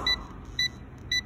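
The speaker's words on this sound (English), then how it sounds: "there is a red light signal beeping" A UNI-T digital clamp meter's non-contact voltage detector sounding near a live 220-volt AC outlet wire: three short, sharp high beeps spaced evenly about half a second apart, close and clear.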